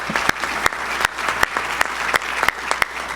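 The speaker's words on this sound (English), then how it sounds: "Let's have another round of applause for our distinguished Lieutenant Governor." A luncheon crowd applauds steadily for the lieutenant governor, with dense, even clapping and a few sharper individual claps standing out across the room.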